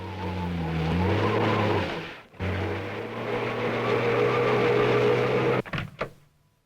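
A car skids on a road with squealing tires, giving a loud, continuous engine and tire roar that shifts in pitch, breaks off briefly once, then ends in a few sharp bumps before fading out.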